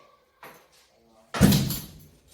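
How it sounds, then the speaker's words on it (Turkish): A repaired steel door swings open smoothly with a brief soft thud and rustling movement, close and moderately loud after a faint earlier knock, with no scraping. "Kapı sorunsuz açılıyor."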